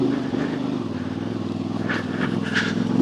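A 200 kg CF Moto 450 MT motorcycle rides up a boggy lane, its engine giving a steady, fairly loud low drone with brief higher revving surges near the end.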